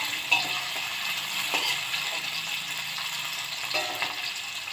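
Chili frying in an oil-filled pan while being stirred, a steady bright sizzle with a few soft scrapes and clinks of the utensil, close and alone with no talk.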